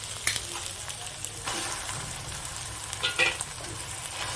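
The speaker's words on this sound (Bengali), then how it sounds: "এবার আমি গ্রেট করা আলুগুলোকে ঢেলে দেবো" Grated potatoes hit spices frying in a pan and get stirred in, producing a continuous close sizzle broken by scraping strokes and a couple of sharp utensil clinks.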